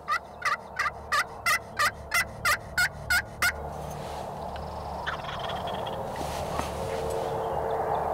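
A rapid series of about ten loud, rhythmic gobbling calls from a wild turkey, then quieter ambient outdoor noise with faint distant sounds.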